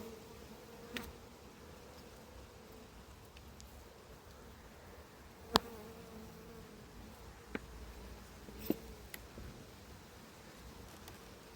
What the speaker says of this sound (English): So yeah, a lot of bees in there